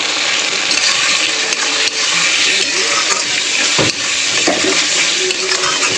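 Ginger, garlic, onion and tomato masala with turmeric and chilli powder fries in hot oil for an egg curry, a steady loud sizzle with scraping stirs running throughout.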